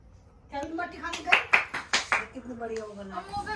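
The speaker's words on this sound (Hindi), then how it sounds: "नाइस, तालियां बजनी चाहिए भाई।" A few sharp hand claps at home, scattered between people talking, close and fairly loud against the voices.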